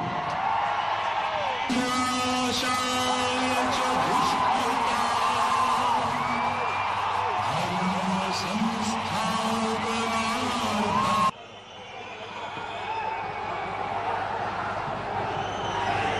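Fans pack the Kotla Vijayabhaskar Reddy Indoor Stadium in Hyderabad for a birthday function. A dense roar of cheering, whoops and yells echoes for about eleven seconds, then drops suddenly to a quieter crowd murmur.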